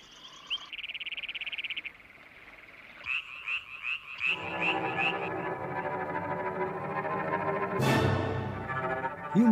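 Frogs calling for mates, a chorus of loud croaks and pulsing trills, with bursts and overlapping calls building in density close by, alongside a sharp rising chirp near the end.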